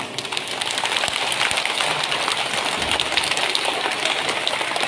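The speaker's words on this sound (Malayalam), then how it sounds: "അസംബന്ധി കുട്ടികൾക്ക് നല്ലൊരു കയ്യടി കൊടുക്കാം." Applause for children at a UKG school assembly at St. Anne's: a dense, steady wash of many small hands clapping together, loud and continuous for several seconds with no talk over it.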